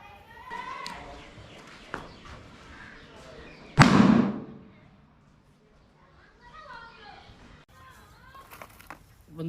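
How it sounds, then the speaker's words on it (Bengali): A tiny Burima chocolate bomb Diwali firecracker goes off in a single sharp, loud bang that rings briefly and fades, with voices and scuffling movement before and after. "এটার নাম হচ্ছে বুড়িমার চকলেট বম। এটা একেবারে ছোটটা, এর থেকে ছোট আর হয় না। এটাই। তখন এটা ব্লাস্ট করে দেখি কেমন হয়।"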